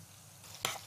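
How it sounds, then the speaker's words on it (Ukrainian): Pear caramelizing in a hot pan with sugar gives off a soft, steady sizzle that swells briefly into a louder burst, close by and with no talking. "А вже зверху іде груша. Ще шкварчить."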